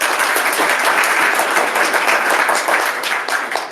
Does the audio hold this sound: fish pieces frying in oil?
no